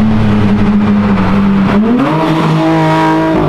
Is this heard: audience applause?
no